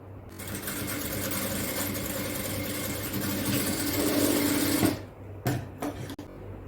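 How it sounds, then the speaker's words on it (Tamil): An overlock sewing machine joins the shoulder seams of a child's frock-style night dress, running in a close, steady whirring burst for about four seconds before stopping, followed by a few short clicks and handling knocks. "நான் ரெண்டையும் ஓவர்லாக் பண்ணிட்டு வந்துடுறேன்."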